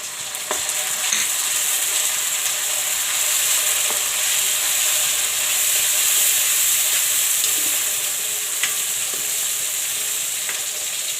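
Tomatoes dropped into a pan of browned onions fry with a loud, steady sizzle and hiss, close up and continuous, with a few faint clinks of a utensil and no talking.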